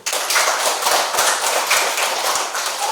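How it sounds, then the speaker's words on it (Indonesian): A small group of students in a classroom claps together in a brief, somewhat rhythmic round of handclaps, close and fairly loud, with individual claps standing out. "tepuk tangan dulu"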